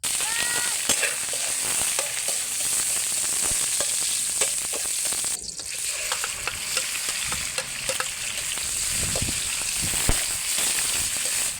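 Chicken sautés in a hot pan, cooking slowly so it renders its own fat. A steady, close sizzle runs the whole time, with scraping and stirring from a spatula and no voices.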